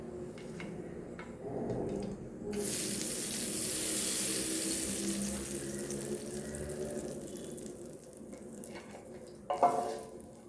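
Hot tempering poured into a peanut and coconut chutney gives a sudden loud sizzle, followed by steady wet stirring and scraping that stays fairly close and then fades.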